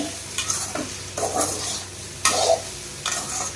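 Okra with salt frying and being stirred in a pan: a steady sizzle with several scraping stirs coming in bursts, close and fairly loud, with no voices.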